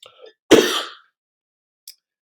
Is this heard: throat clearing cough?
yes